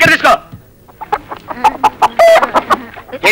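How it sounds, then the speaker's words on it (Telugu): Chickens cluck in quick, loud, irregular bursts close by, with an occasional longer crowing-like call, in a Telugu comedy scene. "ఏంట్రా కోళ్ళు ఆడుస్తున్నావు?"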